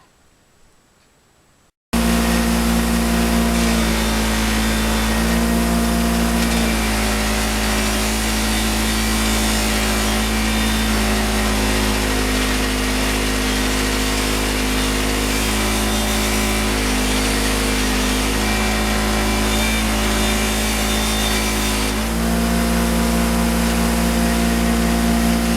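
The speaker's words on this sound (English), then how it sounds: "I think we're ready for the buffing wheel." A buffing wheel polishes a motorcycle sprocket, starting abruptly after a near-silent moment into a loud, steady machine whine with a low droning hum that holds unbroken to the end.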